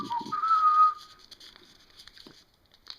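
A person whistles a short, steady tone for about a second while rewinding 120 roll film by hand, followed by quiet handling noises.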